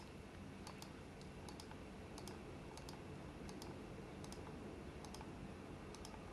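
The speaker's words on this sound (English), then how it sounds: "you can just go to the keyboard and just type" Steady run of computer keyboard keystrokes, typed in irregular short bursts at moderate volume over a constant background hiss, with no talking.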